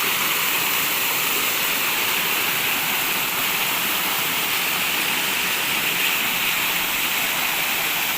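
Kuttupatti falls pours in a steady, dense roar of falling water, close and continuous throughout, with no voices over it.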